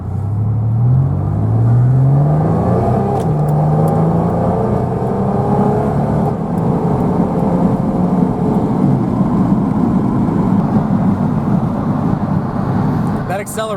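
A GMC Syclone truck engine accelerating, a deep rising growl that sweeps upward through the gears and then settles into a loud, sustained roar close by, with someone talking over it.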